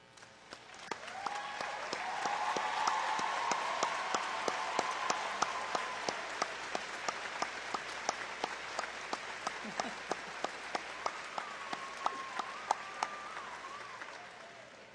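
A standing graduation audience at a secondary school commencement claps for an honored English teacher, a dense, sustained ovation with some sharp individual claps standing out, gradually thinning toward the end.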